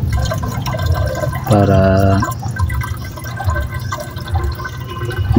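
Water is poured into a water pump to prime it after the pump ran but would not draw. A gurgling, rising fill swells briefly near the middle, with a person speaking around it and steady background noise.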